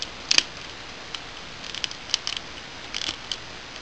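Small plastic Transformers Prime Arcee toy parts snapping into place on the motorcycle form: a few sharp clicks near the start, then scattered lighter clicks and taps, close and fairly quiet with no talking.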